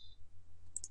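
Computer mouse clicks, two quick faint clicks near the end of a quiet moment over a low background hum.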